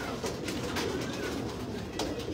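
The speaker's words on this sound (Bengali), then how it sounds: "আগের বারে রেসুইং করা কবুতর লাস্ট ইয়ারে" A racing pigeon, a top-20 racer last season, coos repeatedly in soft, close, rhythmic pulses over a steady background hiss.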